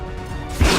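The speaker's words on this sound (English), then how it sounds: "there was some explosion going on up there" A sudden, loud explosion in the video game Mass Effect 2 bursts in near the end of a short stretch of low game ambience, a single deep boom with a wash of noise.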